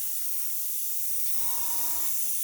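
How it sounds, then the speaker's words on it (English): A spray gun hisses acrylic paint over a primed surface in a steady, close airy wash, with a short, slightly fuller burst of spraying near the end. "There we go, I can spray that down lovely."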